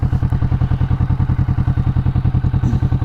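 Kawasaki Vulcan Classic 900 motorcycle idling close by, a loud, steady low-pitched thumping pulse with an even rhythm throughout and no voices over it.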